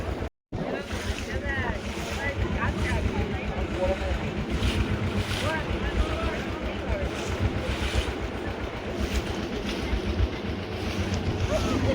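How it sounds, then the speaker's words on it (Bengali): A boat lifts and bounces over tidal waves on open water, with a continuous roar of wind and splashing and a low rhythmic pulsing underneath, close and steady throughout after a brief gap at the start. "নৌকা উঠছে লাফাচ্ছে দেখ"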